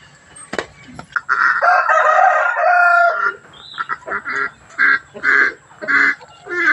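A rooster on a small farm, with ducks kept nearby, gives one long drawn-out crow up close, followed by a rhythmic string of short, loud clucking calls.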